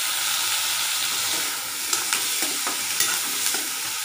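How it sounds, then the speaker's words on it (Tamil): Onions and tomatoes for a thuthuvalai onion chutney sautéing in a pan, a steady close hiss of frying with a few light spoon scrapes toward the end, no talking. "தக்காளி நல்லா வதங்கட்டும்"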